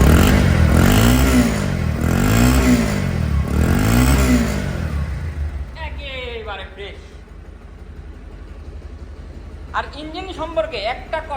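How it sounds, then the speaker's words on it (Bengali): A Bajaj Pulsar motorcycle engine revs hard several times in a row, each surge rising and falling close by. Afterward the engine settles back to a steady idle, and a couple of shorter throttle blips follow. "এই যে এখন দেখেন গাড়ি পিক আপ সাউন্ড কেমন আছে"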